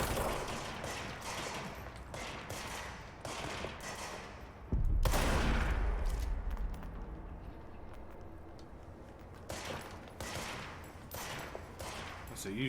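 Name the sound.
gunfire from the video game Control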